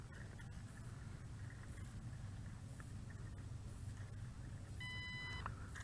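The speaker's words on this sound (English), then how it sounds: "Single beep, a long single beep, and now the light is back to solid green." A Holystone HS720G GPS drone gives a single long electronic beep near the end during compass calibration, heard faintly over a steady low background rumble.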